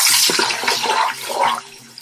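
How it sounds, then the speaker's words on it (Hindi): Water is poured into a pan of browned fried onions for mutton pulao, producing a loud hissing splash and sizzle that fades over about a second and a half. "इसमें थोड़ा सा पानी डालूंगी"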